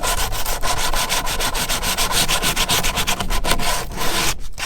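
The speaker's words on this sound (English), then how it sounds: "The benefit of using 80 grit sandpaper is that it'll take a lot more off." Rapid back-and-forth scrubbing of 80 grit sandpaper along the edges of a kayak part, loud and close in a steady rhythm of strokes, ending in a brief pause.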